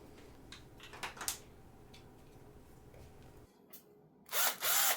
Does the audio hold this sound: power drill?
yes